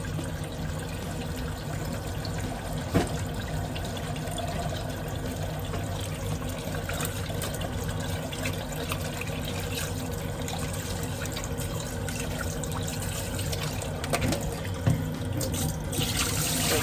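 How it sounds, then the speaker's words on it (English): Running water pours steadily into a sink for a long stretch, a continuous rushing splash with occasional small clunks, no voices. "Drain them and rinse them until the water is clear."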